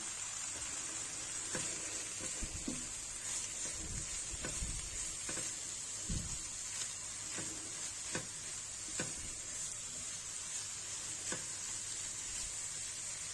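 Spinach sautés in a pan with a steady, close hiss of sizzling oil, broken by occasional soft stirring scrapes and knocks.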